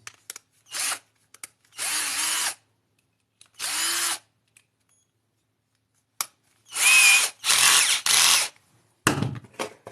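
Cordless drill driving 4.5 x 45 mm screws while assembling a beehive body for Alpine frames, heard as several short whirring bursts of varying length separated by quiet pauses, loud and close.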